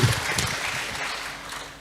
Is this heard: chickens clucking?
no